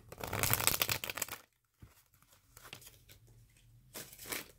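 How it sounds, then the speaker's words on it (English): A burst of crisp riffling and snapping card noise, then quieter shuffling and handling sounds, with another brief riffle at the end. "I'm going to do one good shuffle and then we'll start pulling the cards."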